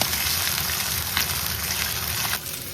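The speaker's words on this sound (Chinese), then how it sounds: "保持中大火煎。" Beef short ribs sear in hot cooking oil over medium-high heat, giving a steady, dense sizzle that runs close and even throughout, easing off slightly near the end.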